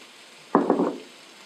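Tofu hits hot vegetable oil in a pan, giving one brief burst of sizzling that flares loudly for about half a second and then fades back to a faint background hiss.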